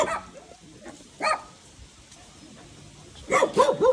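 A puppy rescued from a dog-meat truck gives a few short, separate yips and barks near the end after quieter scattered sounds, with a person talking nearby.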